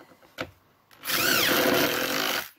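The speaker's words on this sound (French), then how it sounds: "la difficulté, c'est de ne pas percer trop profond" A power drill bores holes into the wooden supers of a beehive, a short knock and then a sustained, loud whirring drill run of about a second and a half that rises in pitch before cutting off.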